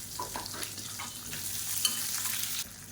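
Onion and curry leaves sautéing in a pan for egg fried rice give a steady, moderately loud sizzle with soft stirring scrapes throughout, no voices.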